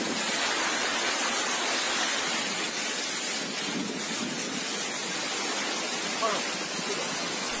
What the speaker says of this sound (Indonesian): Hujan deras disertai angin puting beliung menerjang 4 kecamatan di Kabupaten Nganjuk, Jawa Timur.